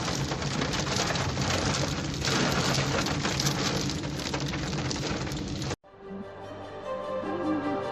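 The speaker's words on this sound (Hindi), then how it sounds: "बहुत तेज़ बारिश हो रही है जी" Heavy rain pours down in a steady, dense roar, close and loud, continuing without a break before briefly dropping out and returning with fainter tonal sounds underneath.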